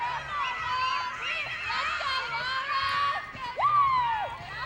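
The Texas A&M team cheers for a winning rider at a college equestrian event, with excited shouts and whoops rising and falling over the span, fairly near and lively.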